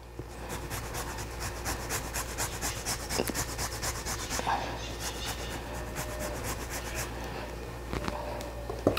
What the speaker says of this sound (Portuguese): Eu costumo congelar o gengibre porque ele fica muito mais fácil de ralar.